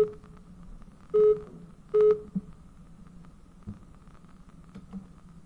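A telephone busy signal on an overloaded radio call-in line: two or three short, steady tone beeps about a second apart over a faint hum and low background noise.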